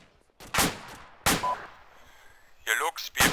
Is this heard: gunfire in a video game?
yes